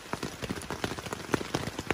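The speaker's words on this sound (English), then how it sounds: "I come back and I come outside and it's pouring" Heavy rain pours outside in a forest, falling as a dense, irregular patter of drops hitting surfaces nearby, moderately loud and steady with no talk.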